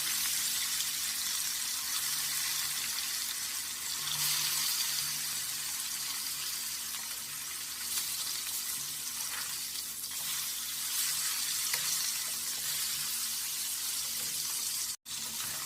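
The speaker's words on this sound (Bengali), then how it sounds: "এবারে আমি কই মাছগুলো ভেজে নেব" Koi fish (climbing perch) frying in hot oil in a wok, a steady hissing sizzle holding constant for the whole stretch, close and loud with no talk.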